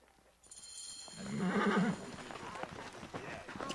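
In the Assassin's Creed Origins video game, a horse gives a loud neigh over clip-clopping hooves, with game music and ambience under it. Speech is tagged, but no words are transcribed.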